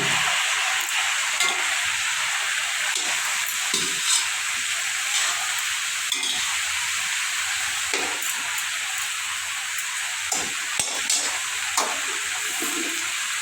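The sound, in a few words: vegetables poured into pan and frying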